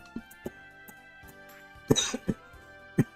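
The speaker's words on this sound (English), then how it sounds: "I'm actually coughing" Short, sharp coughs with throat clearing, several separate bursts in an irregular rhythm, close and fairly loud, alone without speech.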